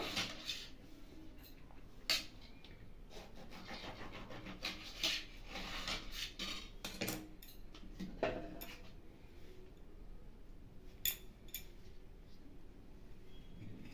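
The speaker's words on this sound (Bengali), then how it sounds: "ফ্লেভারটার জন্য আমি উপর থেকে ঘষে নিয়েছি" Orange peel is rubbed across a grater for zest for an orange cake, a quiet run of scratchy rasping strokes with a few sharper scrapes.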